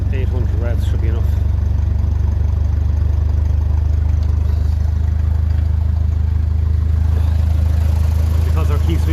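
A 1957 Ferguson 35 TVO tractor engine idles at about 800 revs with a steady, deep, loud throb close by, while someone speaks over it.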